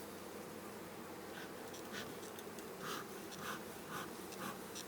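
Honeybees buzz steadily through a swarm hive inspection, a dense, continuous drone with faint, brief rising whines as individual bees pass close.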